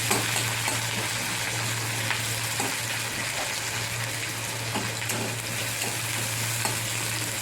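Chopped onion frying in hot oil in a pan for a Bengali Bhola fish curry, a steady close sizzle with scraping stir strokes throughout and a constant low hum underneath.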